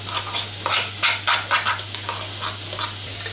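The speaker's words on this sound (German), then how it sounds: "Das alles jetzt rein in den Topf. Kurz anrösten lassen." Chopped garlic and carrot sautéing in a hot pot, a steady sizzle broken by several louder scraping stirs, close by with no talk.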